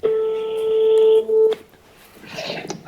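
A steady telephone tone, then a short second tone while a call is placed, followed by a voice speaking over faint background noise.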